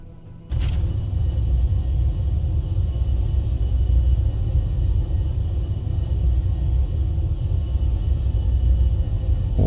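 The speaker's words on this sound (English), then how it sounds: "I forgot to turn the meteor storms off." A meteor storm in the video game Space Engineers starts with a sharp onset, then keeps up a constant heavy low rumble for several seconds with no talking.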